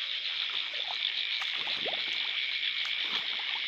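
Frogs call across a flooded rice field at night, a dense steady chorus of insects and frogs with scattered short croaks rising through it, fairly near and continuous without any talk.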